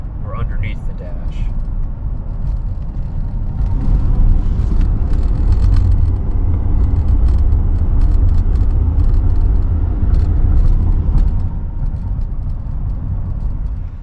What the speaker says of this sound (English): I don't know if you guys can hear that rattling noise, but it sounds like it's coming from the dash or underneath the dash.